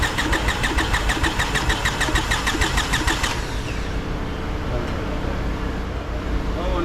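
Toyota 3.3 V6 with fuses pulled cranks without catching, a loud rapid rhythmic starter churn for about three seconds, then a steady engine-like rumble continues to the end.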